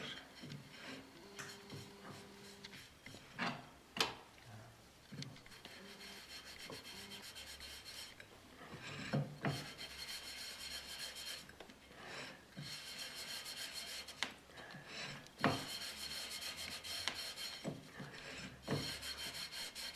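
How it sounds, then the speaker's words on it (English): Steady close rubbing and scraping sounds continue throughout as a transfer print is worked onto porcelain with soft soap, with occasional sharper knocks and no talk. "So what's the substance you're rubbing on? It's soft soap."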